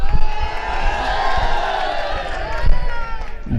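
A mushaira audience greets the poet Waseem Mazhar Gorakhpuri with loud, continuous applause and cheering that fills the hall, swelling near the end.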